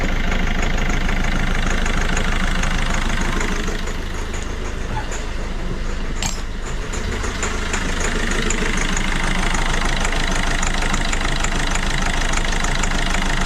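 A Citroën C4 engine runs and idles under a steady, loud mechanical rumble with a rapid knocking texture, dipping briefly midway before settling back to an even idle; no one speaks.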